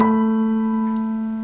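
A piano sounds a sustained chord of notes from an easy theme, with left and right hands playing together and ringing out as it slowly decays, with no talking.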